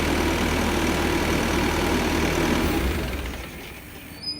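A Bobcat S630 skid-steer loader's engine idles just after an oil change, a steady, loud, low rumble that fades somewhat toward the end, with no voices.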